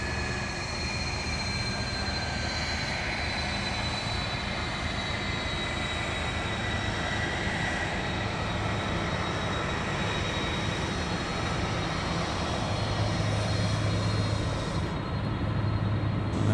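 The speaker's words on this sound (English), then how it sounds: "Taxiing along taxiway Charlie right now." Qantas freight aircraft taxiing along a taxiway at Sydney Airport, a steady loud jet-engine roar and whine heard close by for the whole stretch, with no voices.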